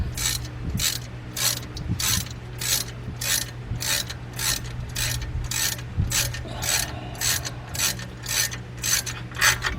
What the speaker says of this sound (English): let me tighten this one up for you with the ratchet